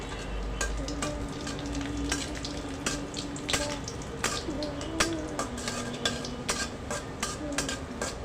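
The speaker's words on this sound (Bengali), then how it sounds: "তো সবগুলো একসাথে কিছুক্ষণ ভেজে নেব।" Green chilies fry in a hot pan for a rustic Bengali taro mash, giving a steady close sizzle with scattered sharp crackles and pops throughout.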